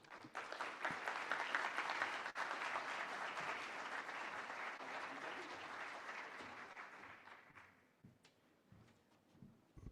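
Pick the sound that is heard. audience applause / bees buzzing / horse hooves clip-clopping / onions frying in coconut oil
audience applause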